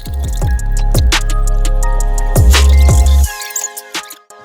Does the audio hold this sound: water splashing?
yes